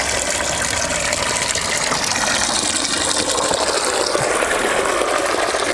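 Water gushes steadily from the drain of a 12-gallon RV water heater into a bucket, a loud, continuous rushing pour with no talk.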